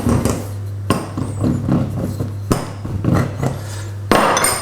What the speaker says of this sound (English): it's just an easy way of cutting off the pastry